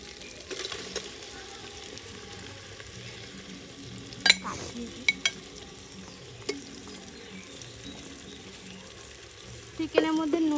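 Chicken pieces go into a pot of fried spices and sizzle steadily while being stirred, with a few sharp scrapes and knocks of the spoon against the pot and no talking.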